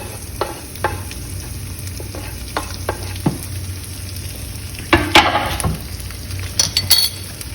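Chopped onion tossed into a pan with bacon and garlic, frying with a steady sizzle under repeated utensil scrapes and clinks, louder stirring bursts near the end, no talk.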